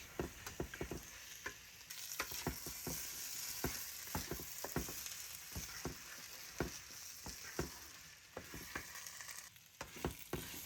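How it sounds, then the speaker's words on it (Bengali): Washed kalijira rice fries in a pan of cooked-down spices for pulao, giving a constant soft sizzle broken by repeated sharp scrapes and clicks of stirring, close up and with no voices. "চালগুলোকে ভালো করে মশলার মধ্যে এখন ভেজে নিচ্ছি"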